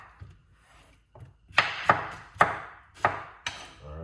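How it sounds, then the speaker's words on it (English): A pineapple being cut up on a cutting board, five sharp, close knife chops in a loose, even rhythm after a few soft taps. "The rest of the pineapple, I'm going to cut it up and put it into a bowl."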